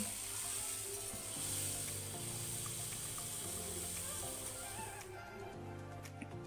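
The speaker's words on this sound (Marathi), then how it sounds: "तर यामध्ये मी आता तीळ ऍड करते।" Sesame seeds stirred together with peanuts in a pan for Marathi til ladoo give a soft, steady, close hissing rustle. It runs for about five seconds, then drops away, leaving a low tonal hum.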